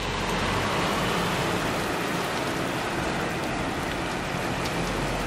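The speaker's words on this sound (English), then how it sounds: "Can you hear that rain?" Heavy rain pours down in England, a dense, steady hiss of drops hitting surfaces that stays constant throughout with no voices.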